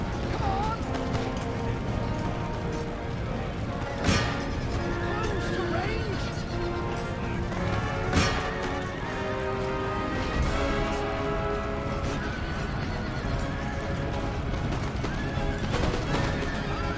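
Cavalry horses neigh and whinny amid the dense clamour of a large battle in Empire: Total War, with scattered gunfire and clattering under continuous mixed battle noise.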